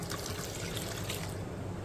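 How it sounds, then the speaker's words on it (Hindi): Water poured into a cooking pot of dal and potatoes, a steady close splashing stream running without pause. "अब इसमें डालते हैं पानी"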